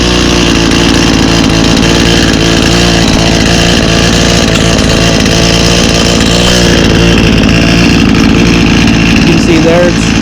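A small two-stroke garden tool engine runs steadily at a loud, buzzing idle close by after starting, with a brief rise in pitch partway through and a voice talking over it.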